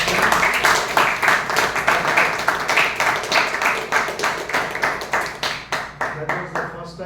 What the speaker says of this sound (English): let us have a big round of applause to all those who have stepped first